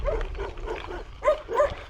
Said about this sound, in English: There's a heap of dogs